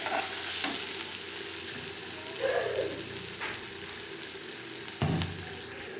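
Onion and ground spices for a tangra fish bhuna sautéing in a pan, with a steady, fairly loud sizzle and hiss throughout and a few scraping stirs and soft knocks, no one talking.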